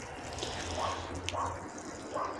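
Water is poured gently over garden vegetable plants, soft splashing and trickling in a few slow, uneven pulses, close by and fairly quiet.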